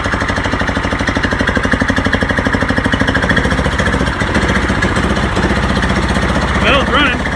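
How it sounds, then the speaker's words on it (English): A snowblower engine runs outdoors at a steady, loud, rapid chug. Its rhythm is even throughout with a faint rattle on top, and no voice is heard. "I'm gonna try to start the snowblower."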